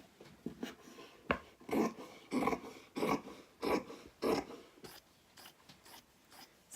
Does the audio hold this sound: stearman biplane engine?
no